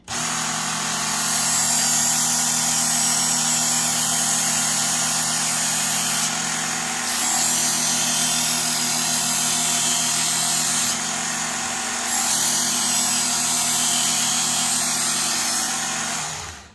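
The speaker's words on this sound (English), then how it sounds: "as you're sharpening, you want to go really slow through the sharpener" A Work Sharp MK2 Professional electric knife sharpener grinds a kitchen knife with a loud, steady motorized whine and abrasive hiss. The tone shifts slightly twice as the blade passes slowly through.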